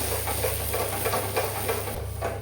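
A few black cumin seeds sizzling in a little hot oil, a steady close crackling hiss with faint patter throughout and no voices.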